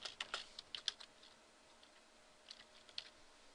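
Keys on a TI-84 calculator tapped in quick, faint clicks, a cluster of presses early on, then a pause and a few more taps near the end, in a quiet room.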